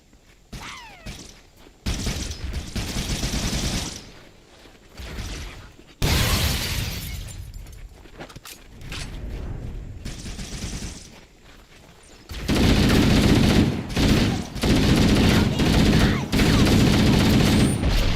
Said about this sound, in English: Shit, they're all using needlers.